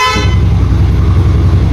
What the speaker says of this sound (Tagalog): Dito yung busina malakas.